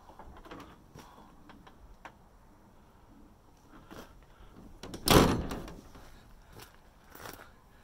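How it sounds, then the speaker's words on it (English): The flexible panel door of a custom enclosure on a Polaris RZR Turbo is bent open and shut: soft rustling and creaks, one louder crinkling flex around the middle, then a few faint settling rustles close by. "As for opening and closing the door, it just bends."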